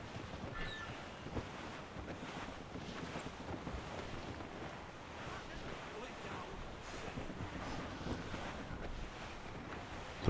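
Strong wind gusting steadily in Assassin's Creed Rogue, a broad continuous roar with sea and waves mixed in and no pauses.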